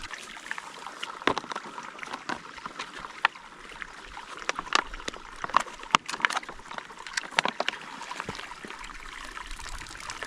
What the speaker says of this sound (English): What we can just do is fill our water right here.